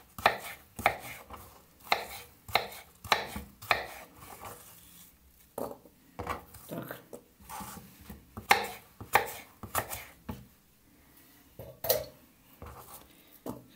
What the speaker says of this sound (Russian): Сейчас мы с вами будем резать яблочки.